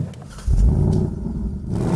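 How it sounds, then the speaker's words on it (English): A Ford Mustang's naturally aspirated 5-litre V8 cranks and catches, then blips into a loud, deep rev that settles to a rumbling idle, close up with no talking. "when you fire up the engine"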